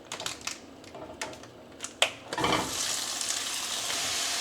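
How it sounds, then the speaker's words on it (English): Ground turkey breast hits a hot pan with a few light taps and clicks, then breaks into a steady, soft sizzle that keeps hissing evenly, heard up close with no talking. "The turkey is starting to sizzle in the pan."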